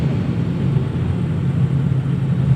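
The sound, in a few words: road traffic with large trucks in Davao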